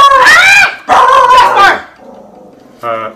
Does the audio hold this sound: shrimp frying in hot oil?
no